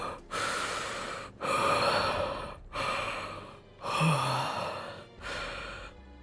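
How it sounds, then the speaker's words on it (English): A video game character from Nikke gives a series of five heavy, breathy yawning gasps in an even rhythm, each long exhale separated by a brief pause, close and fairly soft. "It sounds like she's like yawning and breathing hard at the same time."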